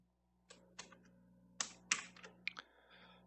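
Someone types on a computer keyboard in short, irregular bursts of crisp key clicks, close and fairly quiet, with pauses between the strokes.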